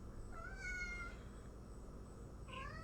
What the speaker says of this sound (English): Kitty, You can hear her meowing.